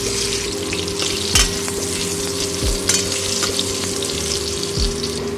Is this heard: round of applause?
no